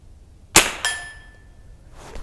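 A single sharp crack from a Henry Frontier .22 rifle firing Norma TAC 22 ammunition, followed a moment later by a faint metallic ring of the bullet striking a steel target downrange.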